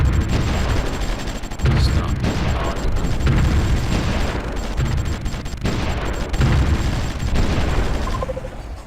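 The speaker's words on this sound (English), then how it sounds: "Start bombarding them." Artillery bombardment in the war strategy game Supreme Ruler Ultimate, with continuous dense booms and rumbling blasts layered over each other throughout, loud and steady with brief swells.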